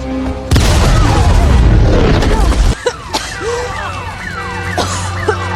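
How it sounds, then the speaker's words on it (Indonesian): A loud, sudden explosion in a film blows a man off his feet beside his car, followed by a roaring burst of debris for about two seconds. Lighter thuds, swooshing effects and tonal movie sounds then trail off. "tiba-tiba terjadi ledakan yang membuat tubuh Collins terpental"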